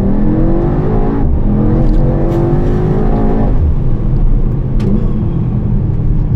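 A Mercedes-AMG GT63 S E-Performance, an 843-horsepower four-seat hybrid, accelerates hard, its engine roaring steadily upward in pitch through a gear change, loud and dense with road and wind noise throughout.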